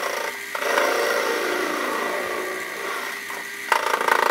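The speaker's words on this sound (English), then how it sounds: "head over to the lathe and work on these spacer bars" A metal lathe faces the ends of a steel spacer bar, giving a steady, close grinding and scraping cut that runs throughout with only small swells, then a sharper burst of cutting near the end.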